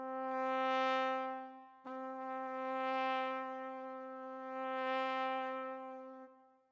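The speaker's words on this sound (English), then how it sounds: "So I'm going to go with a wave" A brass wave articulation from the Native Instruments VALVES library holds a steady note that surges and recedes in repeated undulating swells, briefly re-attacking partway through before easing away, clean and alone.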